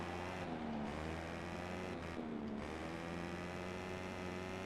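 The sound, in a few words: electric fan running in the room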